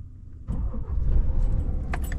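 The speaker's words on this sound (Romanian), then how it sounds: "Hai să pornim și motorul." A car engine starts up near the Jerez racing circuit: a quiet lead-in gives way to a sudden deep, rumbling idle that holds steady, with a few small clicks near the end.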